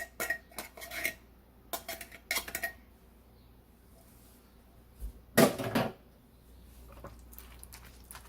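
A utensil clinks and scrapes against a dish while tuna casserole ingredients, including cream of mushroom soup and broccoli, are mixed. There are a few quick bursts early on, a louder flurry of clatter near the middle, then quieter stirring.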